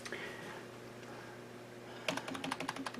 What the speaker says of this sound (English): You mash that F12 key.